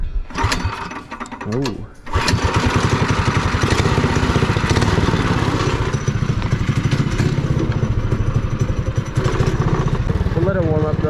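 A go-kart with a Predator 212cc small engine after a Stage 1 upgrade, idling and then running steadily as a close, loud, buzzing drone, with a short exclamation early on.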